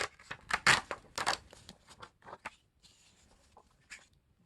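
A folded paper page, pressed firmly along its crease, is torn out in a series of close, crisp ripping bursts that fade to softer tugs toward the end.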